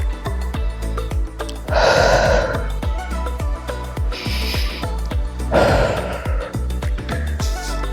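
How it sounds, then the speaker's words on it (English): Slow, deliberate breaths during a Pilates board workout, drawn in through the nose and let out through the mouth, with three or four long, loud airy exhales over a steady low background and no talking. "Inhaling through the nose and exhaling out the mouth."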